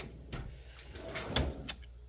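A kitchen drawer at a home coffee bar opens with a few short sliding rubs and light knocks, then a sharp little clack, close and moderately quiet.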